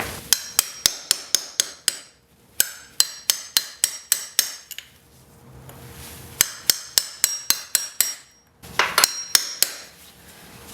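Steel chisel struck repeatedly with a hammer against the front sprocket nut on a Yamaha XJ600 motorcycle, sharp metallic blows in quick bursts of about eight to ten strikes separated by short pauses, close and loud with no talking.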